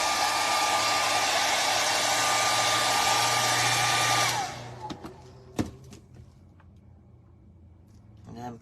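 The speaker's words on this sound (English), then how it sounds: "Quick blow dry." A hair dryer blows steadily on gold leaf on a glass plate for decoupage, a loud continuous whooshing roar that cuts off midway, followed by quieter handling sounds and small clicks.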